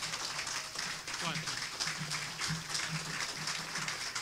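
A rally crowd claps and cheers for Tim Walz, a steady wash of applause running throughout with voices mixed in over it.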